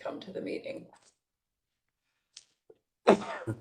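During a healthcare advisory committee meeting, a single sharp sneeze bursts out near the end, after a short spoken phrase and a quiet pause broken by faint clicks.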